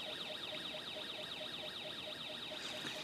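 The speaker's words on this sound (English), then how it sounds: "And we get our little siren sound effect coming out of our speaker there." Snap Circuits alarm IC driving a small speaker, producing a rapidly warbling electronic siren that sweeps up and down repeatedly, steady and continuous, fairly quiet and thin.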